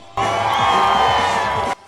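A carnival crowd at Vittorio Veneto's Carnevali di Marca lets out one loud, sustained collective shout on cue, a dense wall of voices and whoops lasting over a second before cutting off abruptly.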